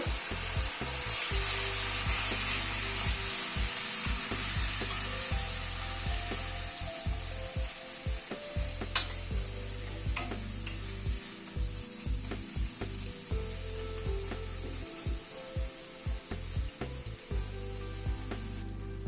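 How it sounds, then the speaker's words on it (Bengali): Ground turmeric and Kashmiri red chilli powder are fried with a splash of water for a spinach dal, making a steady hiss with repeated scraping strokes of a spoon against the pan, close and moderately quiet. "সামান্য পরিমাণে একটু জল দিয়ে দিচ্ছি মশলাটা কষানোর জন্য।"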